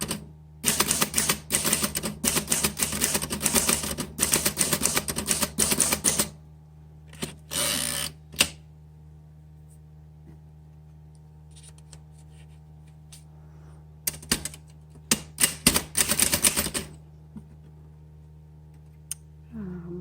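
Rapid key strikes clatter from a 1936 Remington Rand 5 manual typewriter, coming in dense bursts with short pauses and a few isolated clacks, loud and close against a low steady hum.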